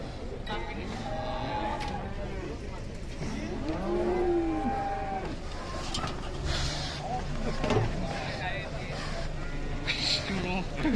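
An agitated cow lows repeatedly while being unloaded from a truck, its moos rising and falling among farm noise as several people talk nearby.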